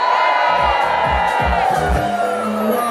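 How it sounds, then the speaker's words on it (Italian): A party crowd at an outdoor summer terrace event in Rome roars, shouts and cheers loudly and continuously, with rhythmic rising whoops over thumping music underneath. "Voglio sentire l'urlo di quelli che in ferie ci devono ancora andare!"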